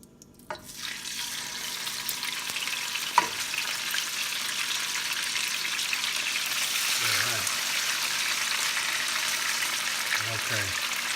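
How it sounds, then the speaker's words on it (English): Squid hits a hot pan and bursts into a loud, continuous sizzle of frying that keeps hissing steadily, with a clatter of utensils and brief low voices in the background. "Now we'll pan fry the squid."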